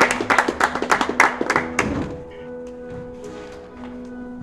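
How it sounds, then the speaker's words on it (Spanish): An audience claps for the presenter of an Elasticsearch talk. A quick burst of sharp, close hand claps fades within two seconds into faint room tone, with a low hum underneath. "Entonces, un gran aplauso."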